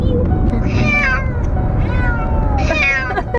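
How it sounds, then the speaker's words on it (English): Cats yowl and meow in distress, several drawn-out wailing cries rising and falling over a steady low rumble of background noise. "we get to listen to the sweet soundscapes of kitties in terror"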